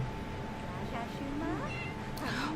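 A kitten in a game meows several times in rising and falling cries, close and clear over a steady background hum, with a voice speaking over part of it.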